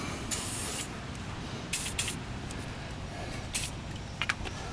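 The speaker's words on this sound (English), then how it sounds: "I'm gonna just hit this with a little bit of penetrating oil, a little WD-40 on there" Several short hissing bursts of WD-40 penetrating oil sprayed from an aerosol can onto car brake parts, close and loud over a low steady background rumble, with a pair of quick final spurts.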